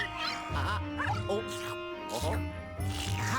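A small dog in Luigi's Mansion 2 HD barks and yips several times in quick, bright bursts close up, with a few whimpering squeaks between them and cheerful game music running underneath.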